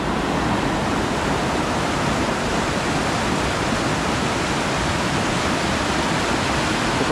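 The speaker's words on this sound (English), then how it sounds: "we're going now to check out the waterfalls here." Roaring waterfall in Guyana with a strong current, a dense, constant broadband rush heard up close and loud, with no voices over it.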